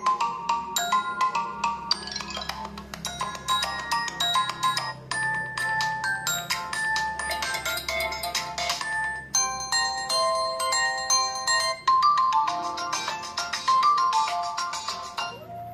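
Ringtone melody played through the single mono loudspeaker of an Itel P55 5G phone, bright chiming tones in quick repeated phrases lasting the whole stretch, clear and fairly loud with no talk.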